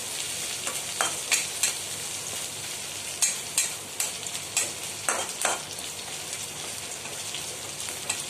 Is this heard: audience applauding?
no